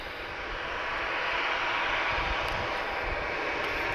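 A Ryanair airliner departs Madeira Airport, its engines giving a steady, loud, broad roar that holds throughout with no voices.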